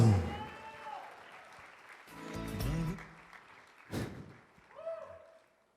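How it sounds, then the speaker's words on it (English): Guests at a wedding reception applaud, with bursts of clapping mixed with voices talking and calling out over it. "Let's give them a round of applause."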